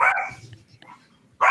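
A guard dog barks loudly and close by in a room, a few sharp barks at the start and end with quieter whimpering sounds between them.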